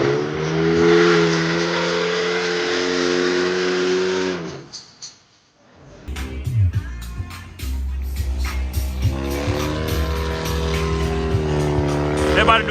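Several car engines rev hard at a car meet just before burnouts, a loud sustained roar that cuts out briefly and then returns as throaty revs and bursts, with people talking amid the noise.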